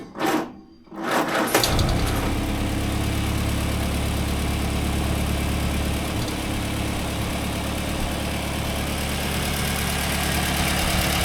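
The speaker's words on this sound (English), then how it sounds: "Running on all 4 cylinders." A Morris 8 car engine fires up after a brief cranking start and settles into a steady, even idle on all four cylinders, loud and close, running alone.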